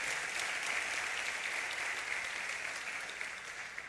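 Church congregation applauding, a continuous wash of clapping heard at a distance and fairly faint, slowly easing off toward the end.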